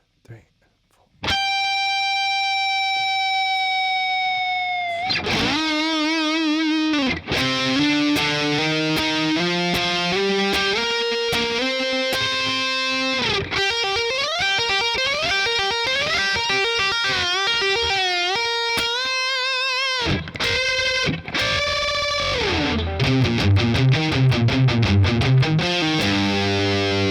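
Distorted electric guitar plays a song's solo: a long held bending note, then fast picked runs and bends, loud and close with no voices.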